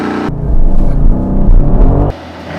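Mercedes-AMG GLE 53 launching hard from a standstill with brake held and throttle floored, a loud, close engine roar under heavy acceleration that cuts off abruptly after about two seconds, with no voices.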